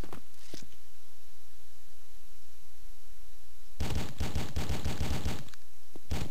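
Rapid automatic gunfire from The Fifth Element video game erupts after a few seconds of quiet, a dense burst of loud shots followed by a short pause and one more brief volley.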